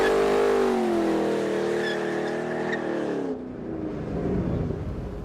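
A 2013 Ford Shelby GT500 holds a loud, sustained engine roar with rising harmonics and tire noise as the rear tires heat up, then cuts to a rougher, lower rumble near the end, close and with no talk.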